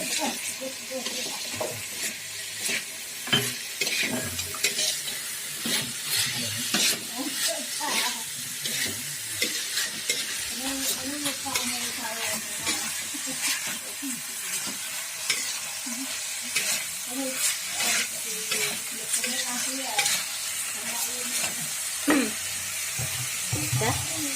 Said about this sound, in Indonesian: Aduk sampai merata, sampai seledri dan daun bawangnya sedikit layu.